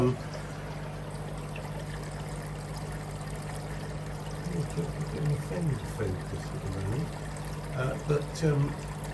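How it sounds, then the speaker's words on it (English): Pond water pours steadily into a heated fish-keeping tank, a continuous rushing stream that runs under a constant low hum, with a voice talking over the latter half. "then I just top that previous tank up with pond water and let it heat up again"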